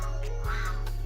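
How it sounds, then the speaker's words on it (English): Geese honking outdoors amid fruit trees, a couple of nasal calls over a steady low rumble of wind and handling noise. "Y'all hear them geese? That's geese."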